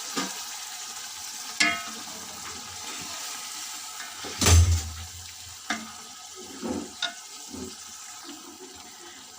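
Two kilos of pre-boiled beef for karahi tipped into a hot pan and stirred, a low sizzle under scattered scrapes and one loud splashing thud.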